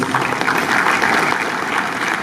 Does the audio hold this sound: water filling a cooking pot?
no